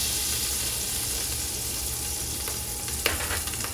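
A steak searing in a frying pan gives a steady, close hiss and crackle of hot fat, with a brief spatter or utensil scrape near the end.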